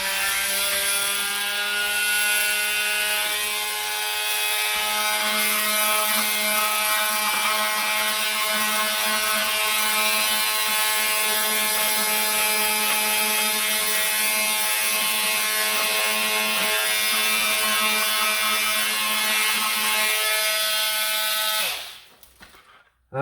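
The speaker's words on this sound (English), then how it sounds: "Let me use a sander just to show you the difference." An electric power sander works on a wood piece, a loud, steady motorized whine with harmonic buzz holding continuously for about twenty-two seconds before cutting off abruptly, with no talking.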